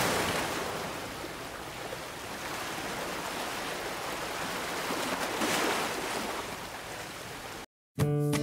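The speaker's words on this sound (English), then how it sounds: "A giant wave rushes to land after an earthquake in the ocean." Tsunami wave rushing onto land as a continuous roaring wash of ocean surf, loud and steady, then cut off by a brief silence just before the end.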